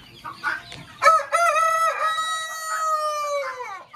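Rooster crowing loudly and close in one long drawn-out call, with some chicken clucking just before it, at a poultry farm raising hens for multicoloured eggs.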